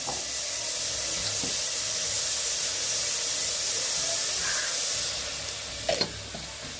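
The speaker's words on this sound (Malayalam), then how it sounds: "അപ്പോൾ നമുക്കതിന് അല്പം ഉപ്പ് ഒഴിക്കാം" Dissolved rock-salt water poured into a simmering vanga curry gives a continuous sizzling hiss that fades near the end, followed by a couple of light clinks.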